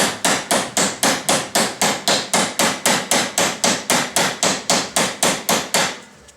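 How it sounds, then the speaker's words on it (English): A small ball peen hammer taps a universal joint bearing into place, about twenty even, ringing metallic strikes in a steady quick rhythm, close and loud, with no talking, stopping near the end. "just with this little ball peen hammer"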